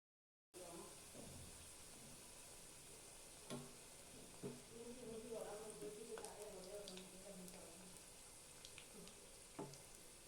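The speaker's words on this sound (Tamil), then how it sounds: "இப்போ எண்ணெய் சரியான சூட்டில் இருக்கிறப்ப சமோசாவை 3 நாளாக பொரிச்சு எடுத்துக்கலாம்" Onion samosas frying in a pan of hot oil, a continuous soft sizzle and bubbling with occasional louder pops and scrapes, quiet overall with a voice speaking at times over the frying.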